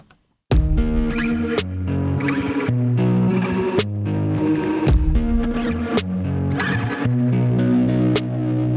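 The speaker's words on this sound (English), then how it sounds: "It's a kick and a snare and a guitar." A simple loud backing track: a thumping kick, sharp bright snare hits at regular intervals, and a sustained distorted guitar playing chords.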